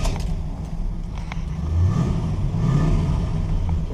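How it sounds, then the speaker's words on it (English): A 1971 Pontiac Grand Prix engine starts up and revs, a close, low rumbling idle that rises into a couple of swelling revs before settling, with no one speaking. "I'm gonna start the car up one more time."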